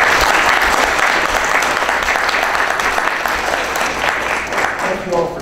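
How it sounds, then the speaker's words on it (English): Loud, dense applause fills a hall at a political candidates' event, sustained clapping from a crowd with faint voices underneath, tapering slightly at the end. "Let's give them a round of applause"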